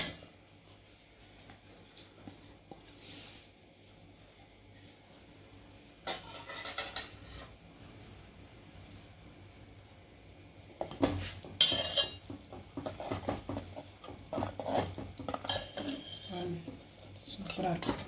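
A spoon scrapes and clinks in a pan while turkey berries and garlic are stirred for a Tamil gravy, in scattered bursts that grow busier toward the end under a person's talk.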